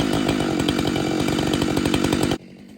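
A new Husqvarna 592xp chainsaw cuts wood at full throttle, a loud close buzzing roar with rapid pulsing chain rhythm that stops abruptly, leaving a quieter idle.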